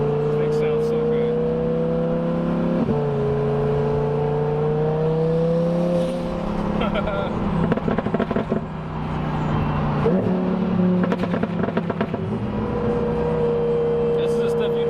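Loud, steady engine drone of a 1000 hp twin-turbo Lamborghini Huracan heard from inside during a ride-along, pitch rising and falling with gear changes, with people talking over it throughout.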